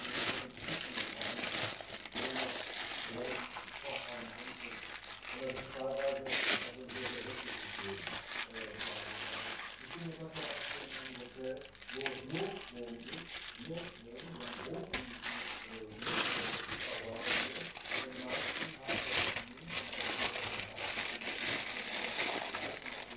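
Plastic freezer bags crinkle and crunch in bursts, handled close by during food packing for the freezer, with someone talking over much of the rustling.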